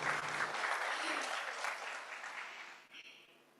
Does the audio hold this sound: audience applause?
yes